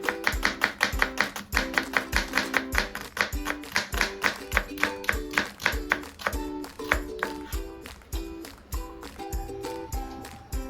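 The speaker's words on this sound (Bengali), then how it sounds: "পেঁয়াজটা তোমরা চেষ্টা করবে যতটা পাতলা করে কাটবার।" A knife thinly slicing onion on a board, heard as rapid, regular chopping taps, close and crisp, continuing at a quick, even pace throughout with a brief slowdown partway.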